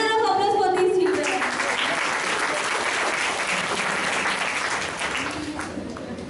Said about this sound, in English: Thunder of applause for these children.